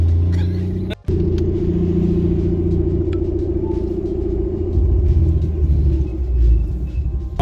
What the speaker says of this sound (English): we're on a quick test drive in the Skyline